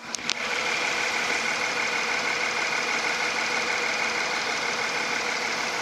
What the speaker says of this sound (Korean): V6 엔진 한번 들어보시죠.